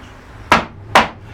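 A large number 7 gouge, struck with a mallet, carves a wooden lozenge panel: two sharp, close knocks about half a second apart.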